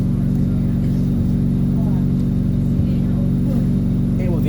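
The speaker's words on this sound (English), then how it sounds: "It was the engine you hear beeping the engine." A replacement bus engine running with a constant low mechanical drone and steady hum filling the cabin, with faint higher tones and voices in the background.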